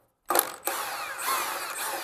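An impact or power tool whirs sharply as it removes bolts during AC compressor and condenser replacement on a Mercedes ML, starting with a brief burst and then running steadily and close.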